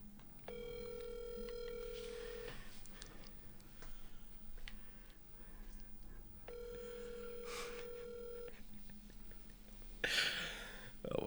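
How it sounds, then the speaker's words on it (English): Outgoing phone call ringback, two long electronic ring tones several seconds apart with faint room noise between them and a brief rustle at the end. "So we're going to call Tyree."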